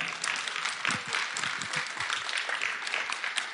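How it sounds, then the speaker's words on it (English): Steady audience applause at a Kanye West Sunday Service event, a dense, even wash of many hands clapping that holds at a constant level. "So I would just like to give a round of applause for that."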